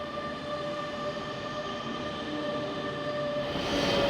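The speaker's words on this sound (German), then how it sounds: "das hier ist jetzt mein erster Zug und zwar das ist der RE2 Richtung Osnabrück" A regional express RE2 train bound for Osnabrück rolls along with a steady close rumble and tonal hum of wheels and motors, growing slightly louder toward the end.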